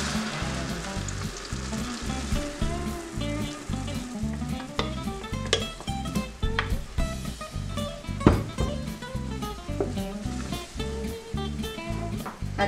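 Blended cream sauce sizzles and bubbles steadily in a hot pot, a continuous close frying crackle with occasional stirring knocks and no talking.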